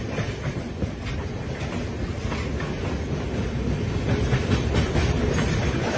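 Bokaro Express passenger train running on the rails, a continuous onboard rumble with rhythmic clickety-clack of wheels over rail joints and wind noise, steady and fairly loud, no talk.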